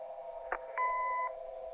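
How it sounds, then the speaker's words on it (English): A single electronic answering-machine beep from the Kathy Rain video game, a steady clear tone of about half a second, heard alone after a short click over a low background hum. "Leave a message after the beep."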